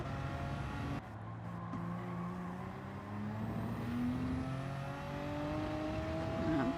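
A pack of racing cars in a Gran Turismo race, including an Audi R8, Dodge Viper, Alfa Romeo and Subaru 22B, with engines droning and revving continuously and loudly, several overlapping engine notes rising and shifting as the cars pass.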